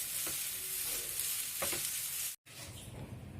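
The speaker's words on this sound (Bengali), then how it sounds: "গোলমরিচ দিয়ে এইভাবে মিশিয়ে নিতে হবে।" Butter garlic noodles being tossed and mixed with black pepper in a hot pan, a steady soft sizzle with light stirring scrapes and a brief break near the end.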